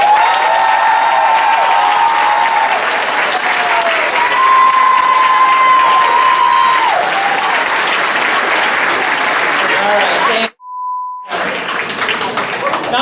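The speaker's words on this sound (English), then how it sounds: "let's give that a round of applause" Loud, sustained applause fills a student award ceremony hall, with a pure electronic tone sounding partway through and a brief dropout near the end before the clapping resumes.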